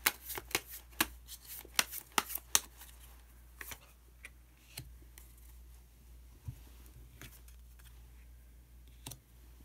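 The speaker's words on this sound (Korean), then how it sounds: "한 장의 카드를 더 뽑고 이야기 계속 나오도록 하겠습니다." Tarot cards being shuffled and drawn, with a rapid burst of crisp, close riffling snaps at first, then sparser soft slides and taps of single cards.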